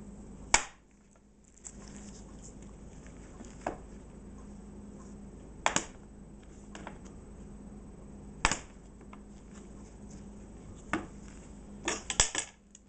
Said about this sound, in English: And I'm gonna do a crinkle cut on this one